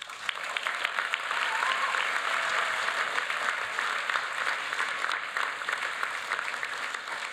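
A large audience applauds for graduates at a UTS School of Communication graduation ceremony, with steady, full clapping that stays loud and even across the whole stretch.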